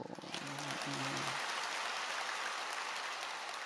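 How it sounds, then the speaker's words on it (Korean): A congregation at a dawn service of a nationwide interdenominational women's fasting revival in a Korean church claps together in a steady, soft, continuous patter, heard after a brief tonal sound at the start. "하나님의 선교를 위해서 박수는 이때 치는 거예요"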